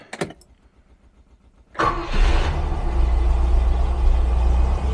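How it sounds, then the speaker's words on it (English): A Rover V8 with the choke pulled cranks briefly, then catches and settles into a loud, steady idle that rumbles close by. Faint clicks come before the crank. "let's fire it up just for fun and see if it's any better than before"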